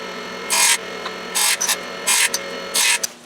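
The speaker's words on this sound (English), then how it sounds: "the first thing is to cut off an end piece just to give you a nice square end, and then we'll start cutting the individual pieces" Wood segments being cut by a saw blade to square an end and make individual pieces: four loud bursts of cutting, each roughly a quarter second long, separated by short pauses, with a few small clicks in between.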